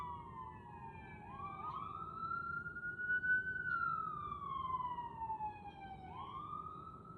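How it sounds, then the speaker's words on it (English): Fire truck sirens pass by outdoors, a steady wailing tone rising and falling in long sweeps, loud and continuous over low traffic rumble, with a second siren overlapping near the end. "fire trucks and the sirens go by pretty often"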